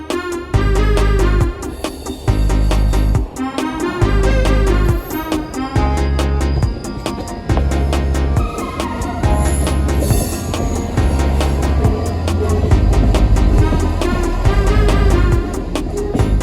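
A departing sprinter diesel train, heard from a bridge at a heritage railway, rumbles loudly and steadily with rhythmic pulsing engine beats and rail clatter throughout, no talk.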